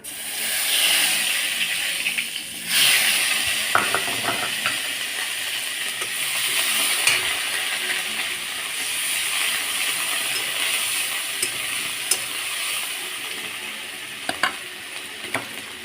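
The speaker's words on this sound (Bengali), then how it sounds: "দিয়ে এই জিরেগুলো ফোড়ন দেব তারপর দিয়ে দেবো পেঁয়াজের বাটা" Cumin seeds and onion paste sizzle in a little hot oil for a potato, eggplant and fish curry. The frying hiss is steady and close for about sixteen seconds, with occasional crackles and stirring clatter and no voices.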